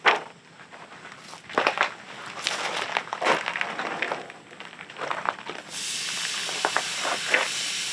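Prime rib goes onto a Hasty Bake charcoal grill running at 275 in the smoke position, hissing and sizzling in uneven bursts with handling noises, then settling into a steady, louder hiss.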